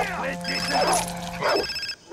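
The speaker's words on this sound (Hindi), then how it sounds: "फोन कौन बजा रहा भाई?" A telephone rings in the Far Cry 3 video game, a repeating electronic trill sounding steadily in the background while someone talks over it.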